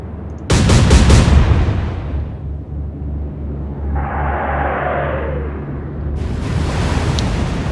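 Heavy naval gunfire in the Atlantic Fleet warship game: a loud booming salvo of several close blasts opens the clip, followed by a rumbling low roar and a sustained wash of noise, then another sharp burst near the end.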